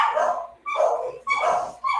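A small puppy dog yips and barks in three quick, high-pitched bursts, close and fairly loud with no talk over it.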